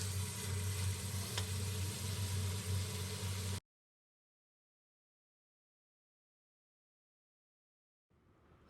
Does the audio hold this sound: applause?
no